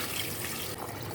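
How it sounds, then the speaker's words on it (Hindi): Water pours steadily into a pot for homemade chicken yakhni broth, a continuous close splashing rush with no talking. "अब मैं इसमें शामिल करूँगी पानी।"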